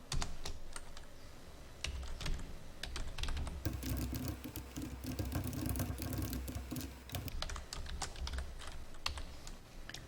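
Korean text being typed on a computer keyboard: rapid, uneven clicking of keys up close, with a brief pause early on before steady typing resumes, no voices.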